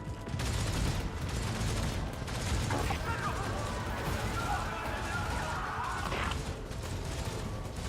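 Gunfire and death screams heard through a transmitting box in the Warhammer 40,000 game Rogue Trader, a dense, steady barrage of shots and crashes layered with other game sounds and voices throughout.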